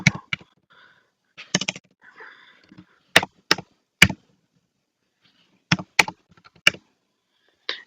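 Separate key presses on a computer keyboard as a phone number is entered, arriving in short clusters with pauses between them, close and fairly crisp with no talking.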